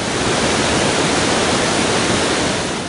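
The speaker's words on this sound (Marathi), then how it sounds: "कोसळणारे पांढरे शुभ्र धबधबे" Nivali waterfall in Ratnagiri, Konkan, during the monsoon: white water crashing down in a dense, steady, loud roar close by, unbroken and with no voices.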